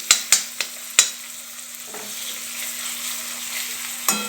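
Onion sautés in a pan with a steady sizzle, broken by a quick run of sharp spatula clanks at the start and another near the end. A faint hum sits underneath, and no one speaks.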